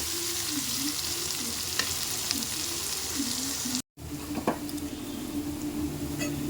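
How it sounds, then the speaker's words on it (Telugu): Onions with salt fry in a pan, making a dense, continuous sizzle up close with light stirring scrapes, cut by a brief dropout partway through and no speech. "ఉల్లిగడ్డలు తొందరగా వేగాలంటే కొద్దిగా ఉప్పు వేసుకోవాలి"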